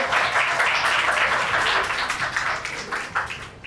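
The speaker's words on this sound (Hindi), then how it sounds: "लड़कों के लिए तालियां" An audience at a televised student quiz competition applauds the players, with brisk, fairly close clapping that stays lively at first and then thins and tapers toward the end.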